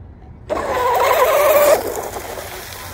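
A 1/8 scale Lucas Oil RC drag boat launches with a sudden high-pitched motor whine that bursts in abruptly, holds loud for about a second, then drops away as the boat speeds off.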